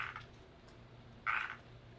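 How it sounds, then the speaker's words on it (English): Frogs croaking at night outdoors: two short, faint croaks, one at the start and one a little over a second later, over a quiet low background hum. "Enjoy the frogs."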